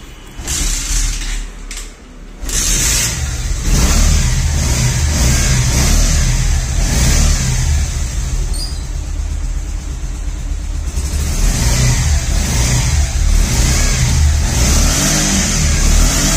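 A Bajaj Pulsar single-disc motorcycle engine revs loudly and up close, rising and holding in steady rumbling bursts with a brief dip early on, and no talking.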